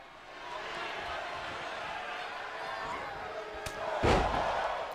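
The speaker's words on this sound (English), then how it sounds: "Gallagher is slowly getting back up to his feet and slams Dunne down." A wrestler slams an opponent to the mat in WWE 2K22, a heavy thud landing near the end above a continuous crowd roar.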